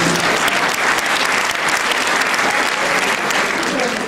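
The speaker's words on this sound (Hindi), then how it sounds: "आप तालियां बजा सकते हैं इस बात को" Audience applause fills a Hindi comedy poetry gathering (hasya kavi sammelan) in Morrisville, a dense, steady wash of many hands clapping at even loudness throughout.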